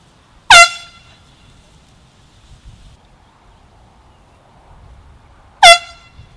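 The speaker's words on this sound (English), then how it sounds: "Got Hunter right here with the air horn." An air horn blasts twice on an outdoor golf course, two sharp, loud, brief honks about five seconds apart with quiet open air between them.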